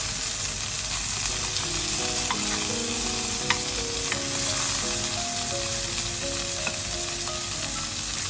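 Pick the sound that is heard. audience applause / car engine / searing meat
searing meat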